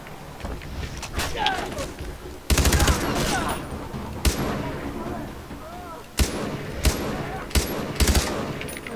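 Gunfire rings out in the video game Far Cry 3, with loud bursts of automatic fire and several sharp single shots cracking over a noisy, rumbling background.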